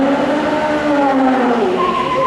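Stunt car driving backwards at high speed at a Hollywood Studios stunt show, loud sustained tire squeal with shifting pitch over engine roar, close and continuous.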